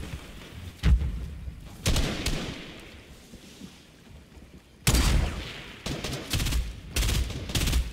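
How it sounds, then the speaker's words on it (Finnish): Gunfire in the video game Fortnite: several sharp bursts of shots come in clusters, some near and loud, others more distant, separated by quieter stretches of ambient game noise. "siellä ammutaan nyt jossakin"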